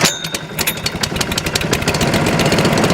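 A Dennis Razor lawn mower engine starts from cold with choke on, then settles into a loud, steady idle with rapid rhythmic firing pulses, heard up close and alone.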